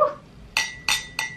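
Three bright glasses clink in a toast during an unboxing of an IKEA houseware haul, evenly spaced sharp chimes ringing out clearly one after another with quiet between them.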